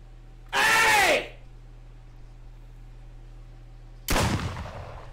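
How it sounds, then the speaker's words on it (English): Two loud blasts from a shotgun in the Duck Season video game, each a sharp crack with a ringing tail, the first near the start and the second about three and a half seconds later, with quiet between. "Chad, how do you load the gun?"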